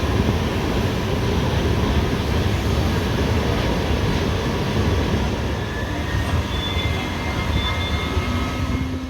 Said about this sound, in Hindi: खरसिया रेलवे स्टेशन से ट्रेन अब आगे बढ़ चुकी है